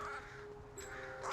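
Crows cawing in the open, a few harsh calls rising over steady background noise, fairly close and alone with no talk.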